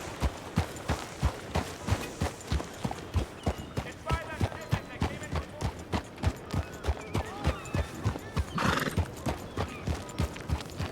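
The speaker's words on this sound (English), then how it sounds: "which way is the horse going to run when I've send it on its way" Horse in the GTA V roleplay game trotting with regular, crisp clip-clop hoofbeats throughout, with a loud neigh partway through; close and clear, with no talk.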